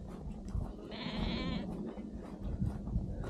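Sheep and young lambs bleat in an open field, one clear drawn-out bleat standing out among scattered calls and rustling, with footsteps and outdoor noise throughout.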